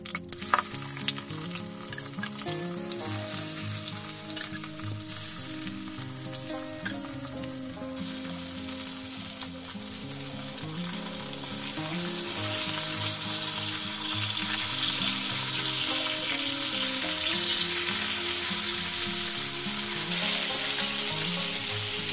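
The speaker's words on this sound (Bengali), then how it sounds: "এবারে মাছগুলো তুলে নেব, ভাজা হয়ে গেছে।" Fish frying in mustard oil in a pan, a steady loud sizzle and crackle running throughout, growing slightly fuller toward the end, with no voices.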